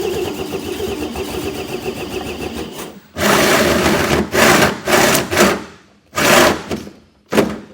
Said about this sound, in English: we'll go ahead and use that 4-inch hole saw to cut out the hole.